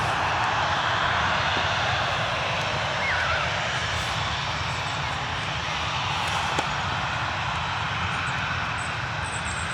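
An airliner comes in to land at Manchester Airport, its engines producing a steady, loud roar that holds throughout with a faint high whine layered on top.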